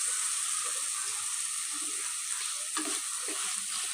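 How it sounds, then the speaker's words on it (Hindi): Masala and mixed vegetables frying in ghee in a pan, giving a steady bright hiss as they are stirred, with a few soft scraping knocks from the spoon partway through; no voices. "अब हम इसको भूनेंगे।"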